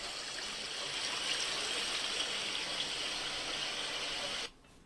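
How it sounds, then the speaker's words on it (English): Several garden centre water fountains bubble and splash together in a steady, dense wash of running water, loud and continuous before cutting off abruptly near the end. "That was a cacophony of water fountains."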